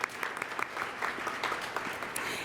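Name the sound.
audience applause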